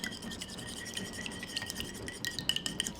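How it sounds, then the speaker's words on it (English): Eggs whisked with heavy whipping cream in a bowl, giving quick, light, rhythmic clinks and scratches of the whisk against the sides, close and fairly soft, with no voices. "you're just going to whisk it up until your eggs are well whisked together"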